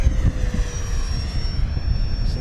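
FMS Super Scorpion 70mm EDF radio-controlled jet flying steep turns, its ducted fan producing a steady whining roar with a gliding pitch shift as it banks at moderate distance against gusty background noise.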